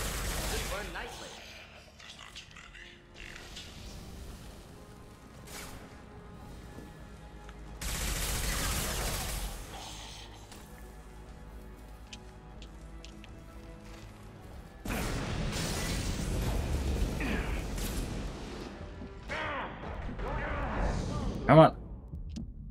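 Gunfire and hand-to-hand fighting in the video game Mass Effect 2, with loud stretches of rapid shots and impacts alternating with quieter gaps, ending on a sharp crash. A voice talks over much of it.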